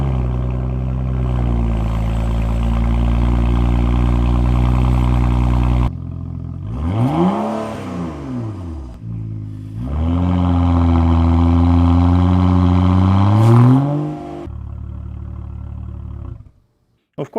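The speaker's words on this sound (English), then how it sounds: "there's no muffler, so it has horrible drone at higher speeds" A BMW 335i E92 with an old stainless catback exhaust and no muffler drones loudly and steadily, with deep harmonic tones that rise and fall as the engine revs and a brief quieter dip midway.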